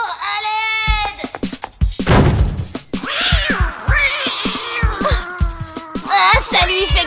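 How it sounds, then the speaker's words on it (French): A cartoon cat meows in a French-dubbed animated episode, giving rising and falling wails over several seconds, mixed with lively character voices and busy sound effects. "Alex, mais qu'est-ce que c'est que ce chat?"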